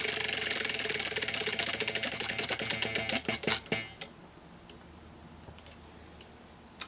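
A prize wheel spun for a monthly reading challenge gives a dense run of rapid ticking that gradually slows and spaces out, then stops after about four seconds, leaving a few isolated faint clicks in near silence.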